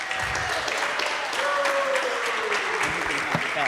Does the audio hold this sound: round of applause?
yes